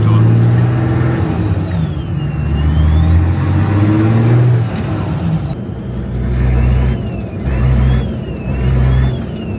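Loud cabin noise inside a Nissan Patrol pulling onto a highway, with heavy low engine drone and rising and falling whine as it accelerates through gears.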